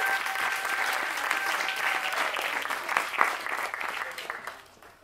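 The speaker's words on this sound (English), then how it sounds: "please, a round of applause for our newlyweds." Applause from guests at a wedding reception welcoming the newlyweds, a full round of clapping that swells, peaks and then tapers off toward the end.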